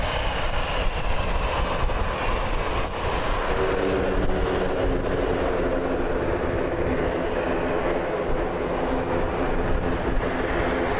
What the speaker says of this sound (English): Aer Lingus ATR out to Dublin.